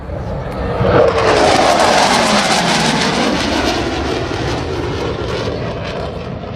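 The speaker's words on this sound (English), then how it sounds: "That show of force pass, of course, to confuse the enemy with the loud afterburning sound of the Hornets." F/A-18 Hornet jets make a low, loud afterburner show-of-force pass at an air show, a broad roaring rush that swells after the first second, shows a falling Doppler sweep, and holds a steady blasting roar to the end.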